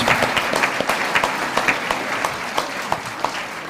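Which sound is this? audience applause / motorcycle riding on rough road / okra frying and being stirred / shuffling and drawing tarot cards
audience applause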